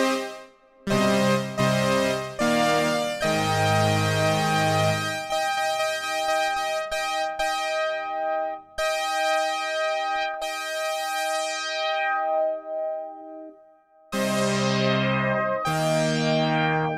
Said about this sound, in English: you know, we've got a cool synth.